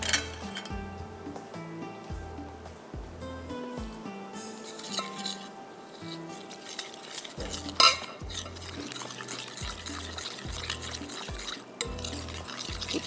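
Batter is mixed in a bowl with a utensil, giving quiet scraping and clinking strokes along with one sharper clink midway, while steady music plays underneath and nobody speaks.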